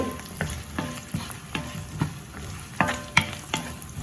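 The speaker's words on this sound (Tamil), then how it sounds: "முருங்கைக்காய் வந்து வடிவாக இந்த மாதிரி வடிவாக எல்லாம் சேர்ற மாதிரி கிளறி போட்டு" Drumstick pieces being stirred with fried onions in a hot pan: a soft steady sizzle under repeated scraping and clacking strokes of a spoon, roughly every half second, close and clear with no talking.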